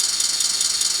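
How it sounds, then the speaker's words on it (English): Simulated motor sound from a Kato sound board fitted in an Atlas model locomotive, a steady high-pitched whirring hum with a faint rattle, constant and close, with no talk. "Motor sound."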